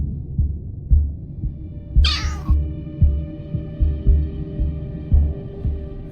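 A summoned cat in the Solo Leveling Arise game lets out a single clear meow over a steady, throbbing heartbeat-like pulse and a low hum that keep going before and after it.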